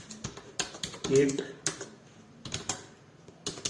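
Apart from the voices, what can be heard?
typing on a computer keyboard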